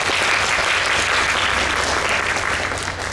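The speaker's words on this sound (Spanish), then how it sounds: "Fuertes aplausos para ellas, por favor." Loud, dense audience applause for two panel guests at a book event, continuous clapping from a crowd that holds steady throughout.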